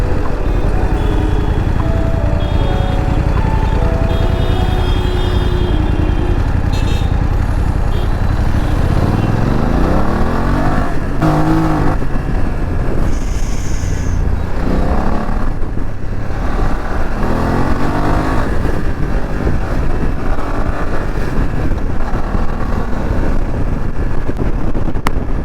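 A BMW F900GS motorcycle fitted with an Akrapovic exhaust rides along with a steady, loud engine drone and shifting revs, wind buffeting the microphone throughout.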